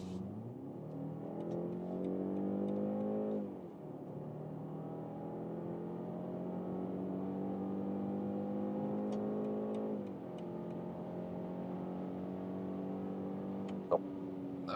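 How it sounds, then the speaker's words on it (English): A BMW 520i with its 2-litre four-cylinder petrol engine pulls hard in sport mode, revs climbing steadily through gears with two shift dips, heard from inside the cabin as a smooth, moderately loud drone. "And now driving the small petrol engine, the 4-cylinder,"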